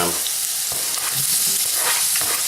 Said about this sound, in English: There's the sizzle I want to hear.